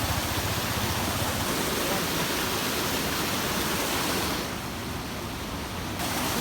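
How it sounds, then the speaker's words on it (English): A large waterfall pours into a river with a steady, dense roar, loud and close throughout, easing slightly near the end before swelling again. "Leaving the waterfall now."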